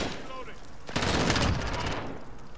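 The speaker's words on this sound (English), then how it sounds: "I think he was shooting at me." Gunfire in Call of Duty: Modern Warfare, a dense burst of rapid automatic shots that erupts suddenly after a quieter start and rattles on for about a second before tapering off.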